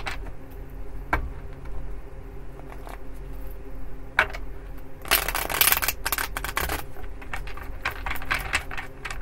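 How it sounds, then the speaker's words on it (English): An Illuminati tarot deck being shuffled by hand, quiet papery riffles and taps building into a denser burst of card flutter midway, with no speech. "This Illuminati deck, it does not always want to shuffle."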